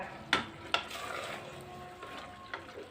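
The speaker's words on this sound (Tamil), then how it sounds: "பீஃபை நல்லா கலந்து விடணும்." Beef frying in a pan with onion, tomato and oil, a soft sizzle under several brief scraping knocks of stirring.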